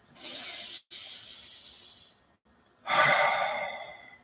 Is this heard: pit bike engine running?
no